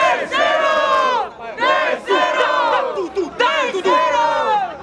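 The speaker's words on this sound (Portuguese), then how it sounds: "Barulho pras rimas do Leozinho" A crowd at a Brazilian freestyle rap battle erupts in loud, sustained shouting and cheering, three big surges of massed voices with brief dips between them.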